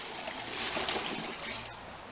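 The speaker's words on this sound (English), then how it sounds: "now we're going to add our brine to it" Brine for a turkey pours into a container, a soft, continuous wash of liquid splashing, fairly quiet and heard alone.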